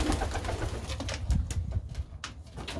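Pigeons in a loft during the lead-up to breeding season give low, soft coos that run steadily under a faint rustling background, with no voices.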